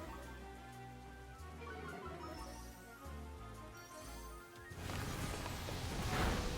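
In Pokemon Scarlet & Violet, the Rain Dance move starts as a broad hiss of falling rain rising over the battle music, then holds loud and steady to the end.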